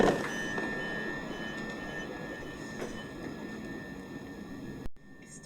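Class 377/4 electric train at London Victoria, a steady rolling rumble with a sustained high wheel or motor whine running throughout, ending in a sudden cutoff near the close.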